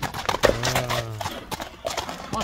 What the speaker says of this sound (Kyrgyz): Ат жайында экен, жаныбар.